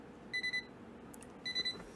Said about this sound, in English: I think the battery's almost dead, is why it keeps beeping